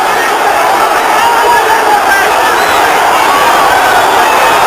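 A boxing arena crowd roars nonstop, fans on their feet around the ring at a Roberto Duran bout, a dense, loud wall of cheering and yelling with no letup.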